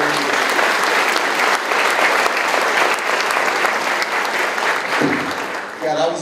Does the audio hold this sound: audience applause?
yes